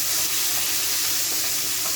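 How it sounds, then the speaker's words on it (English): Green and white onions fry in a pan for Jamaican salt mackerel run down, giving a steady, close, dense sizzle that holds evenly throughout with no talking. "white onions in, and we're gonna fry that up"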